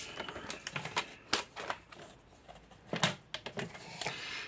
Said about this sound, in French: On revient avec notre massicot.